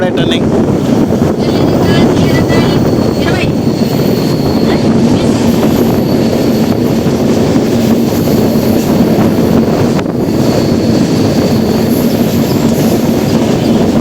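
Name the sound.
Indian Railways Kanyakumari Express train running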